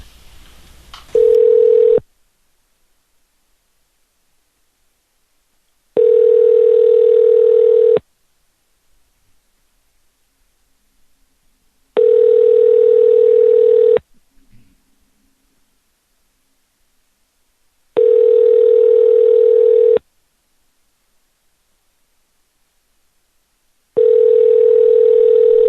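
Telephone dial tone from a soundboard call, a steady tone sounding in five even bursts of about two seconds, separated by roughly four-second silences, clear and close with no voices.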